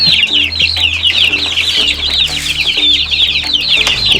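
Rhode Island Red chickens clucking steadily with busy overlapping calls, close and loud, over a low continuous hum of machinery in the background.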